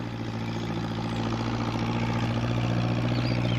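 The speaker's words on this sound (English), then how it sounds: "What with the noise of the tractor, Peter Fogg didn't hear Pat's call." A farm tractor engine runs at a steady idle, giving a continuous low, throbbing hum that stays loud and close throughout, with no voices.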